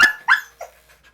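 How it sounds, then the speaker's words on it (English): Portuguese Water Dog being groomed gives a few short, sharp barks and yips, loud and close, with quieter whimpering sounds trailing off between them. "if you were grooming a dog like this, barking and yapping and jumping"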